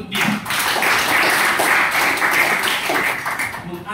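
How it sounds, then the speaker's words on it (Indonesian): Students in a classroom clap for a classmate, a loud, dense burst of applause that runs for several seconds before tapering off, with some voices mixed in. "tepuk tangan untuk dia"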